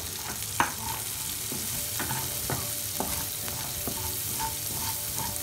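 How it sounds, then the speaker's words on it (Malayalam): Onions sautéing in butter in a pan give a steady crackling sizzle, punctuated by several spatula scrapes and knocks, close up with no talk. "എക്സസ് ആയിട്ടുള്ള ബട്ടറിൽ തന്നെ നമുക്ക് സവാള ഇട്ട് കൊടുക്കാം"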